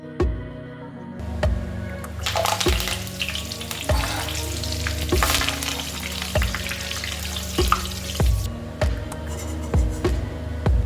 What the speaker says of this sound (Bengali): কারি পাতা ভেজে নিয়ে চিনে বাদামগুলিও ভেজে নিলাম।